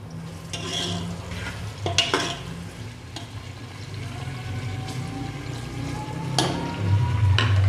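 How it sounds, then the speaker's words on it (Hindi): Sliced onions sizzle and crackle in hot oil, with scraping stirs and occasional clinks against the pan throughout. "प्याज हमारी फ्राई हो रही है।"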